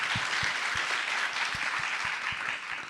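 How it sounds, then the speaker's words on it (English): An audience at a science summit live session claps in a steady, full round of applause that carries evenly throughout before easing slightly at the end. "let's give him a round of applause,"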